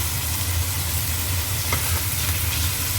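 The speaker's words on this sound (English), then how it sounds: "it's starting to get a little bit charred or burn at the side of the wok" Chicken char siu sizzles steadily in a hot wok, a loud continuous frying hiss with a brief scrape as it is flipped.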